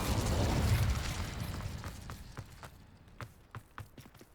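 Incendio fire spell in Hogwarts Legacy bursts with a loud whooshing flare of flame that fades into a series of sharp crackles and pops as it dies away.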